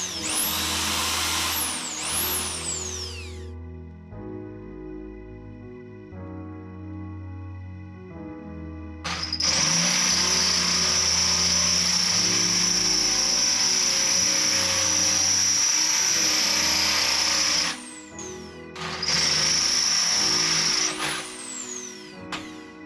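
A power drill bores through metal mounting plates for a rear axle on a Corsa VXR track car. The drilling whines in long sustained runs, with a motor hum and short pauses between holes.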